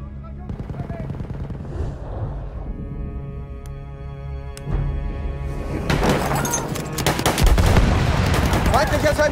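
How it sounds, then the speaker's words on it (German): Machine gun fire in the video game Battlefield 1 on the Argonne Forest map, loud rapid bursts that intensify toward the end, mixed with battlefield noise and a soldier shouting. "Ah, ein Maschinengewehr!"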